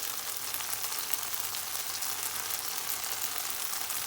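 Tomato masala frying with chili powder in a pan gives off a steady, even hiss of sizzling oil that continues without break, close and with no voices.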